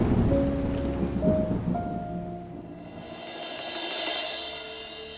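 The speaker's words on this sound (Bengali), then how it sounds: "আকাশে যে মেঘগুলো এতক্ষণ থম মেরেছিল তারা আবার ধীরে ধীরে বৃষ্টি হয়ে ঝরে পড়তে শুরু করল।" Rain falling as a radio drama sound effect, a soft steady patter with low rumbling early on, swelling into a brighter wash of rain toward the end.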